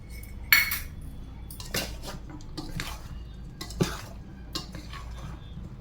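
A spoon stirs amla pickle mixed with mustard powder, fenugreek powder and garlic in a metal vessel, giving several sharp scraping clinks spaced irregularly over a quiet background.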